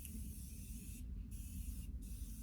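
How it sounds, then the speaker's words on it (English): Makeup setting spray misted onto a face, heard as two quick, soft pumps of fine spray hissing close over a steady low room hum. "Right now I'm going to spray a little bit of setting spray on."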